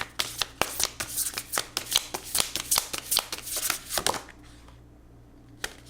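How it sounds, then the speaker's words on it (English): A deck of tarot cards is shuffled by hand in a rapid series of crisp riffling snaps and flutters close to the listener, ending in near quiet with one last soft tap. "I shuffled"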